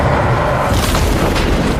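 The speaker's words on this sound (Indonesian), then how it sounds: "dan akhirnya naga itu pun meledak." A dragon explodes as a film sound effect, a loud, dense rumbling blast that fills the whole moment without letting up.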